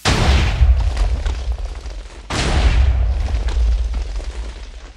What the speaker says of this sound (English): So this cannon can have some range.